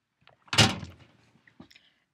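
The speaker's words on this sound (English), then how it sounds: "They make loud noises, these doors." A single loud door thud, close by, followed by a few softer knocks and rattles as it settles.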